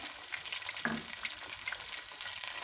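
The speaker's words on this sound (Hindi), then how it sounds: "अब हम इसमें प्याज डालेंगे, साथ ही टमाटर डाल देंगे" Onion and tomato dropped into frying ginger garlic paste for a mixed vegetable dish, a soft steady sizzle with a short burst as the ingredients land, fairly quiet, no speech.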